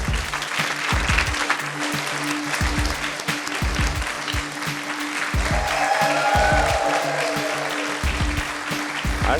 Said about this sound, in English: everyone, please welcome Sarah to the show